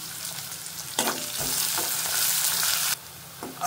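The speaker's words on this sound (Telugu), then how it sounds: "ఉల్లిపాయలు కొంచెం వేగినాయి" Two small finely chopped onions fry in oil with mustard seeds, cumin, broken dried red chillies and turmeric, a close, bright sizzle that surges as they are stirred and cuts out briefly near the end.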